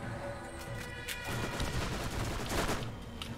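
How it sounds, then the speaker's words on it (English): Rapid SMG gunfire in the video game Borderlands, a dense crackling fusillade of shots that runs steadily and loudly through the whole stretch, with no talking. "New gun I picked up, the SMG, this one"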